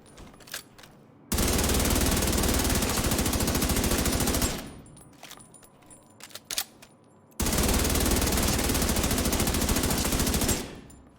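Rapid automatic fire from a P416 assault rifle in the video game Division 2, two long, loud, unbroken bursts separated by a short pause filled with scattered smaller shots and impacts.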